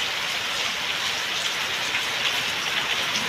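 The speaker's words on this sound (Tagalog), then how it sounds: "dahil malakas ang ulan." Heavy rain pours down in a dense, steady hiss with no letup, loud and close, and no voices, while goats shelter from it.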